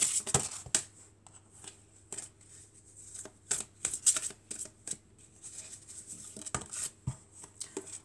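Cards are shuffled for a tarot-style card reading, with crisp riffling and scattered snaps and taps coming in short bursts. The sound is close and fairly quiet, and no one speaks.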